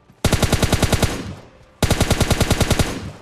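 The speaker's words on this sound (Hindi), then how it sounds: "गोलियों की आवाज़ आ जाती है" Two long bursts of rapid automatic gunfire from PUBG Lite, loud and sharp, separated by a brief pause, with no voices.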